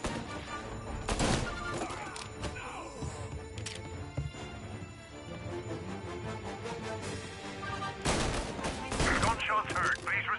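Bursts of gunfire in a Mafia Definitive Edition shootout, loud volleys near the start and again toward the end, with scattered single shots and game noise between.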